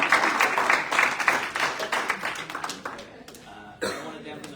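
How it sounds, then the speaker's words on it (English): Applause for guests at an ASI Senate meeting, a short burst of scattered clapping from a room of people that fades over a few seconds, with a cough and murmurs mixed in. "Another round of applause for our guests."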